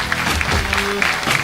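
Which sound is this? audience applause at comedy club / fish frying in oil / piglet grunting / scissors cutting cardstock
audience applause at comedy club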